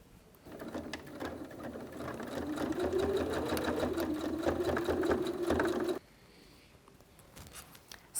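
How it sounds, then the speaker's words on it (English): A sewing machine stitches around the curved edge of a wash bag panel, running steadily for about five and a half seconds with a fast even clatter, then stopping abruptly, leaving faint room noise. "I'm going to sew it on the sewing machine, going around those curves very carefully"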